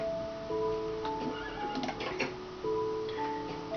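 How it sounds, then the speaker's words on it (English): Horses on a horse farm in the Minecraft video game give whinnies and neighs over a steady ticking background, the calls coming a few times at moderate distance, fairly faint, with no speech. "and then you got your horses over here"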